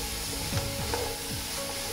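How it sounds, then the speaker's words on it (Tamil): Onions and chillies stirred and sautéed in a pan make a steady sizzle, with soft scraping from the stirring, close up. "எல்லாத்தையும் சேர்த்து நல்லா கிளறி விட்டுட்டு இந்த வெங்காயத்தை நல்லா வதக்கி எடுக்கணும்."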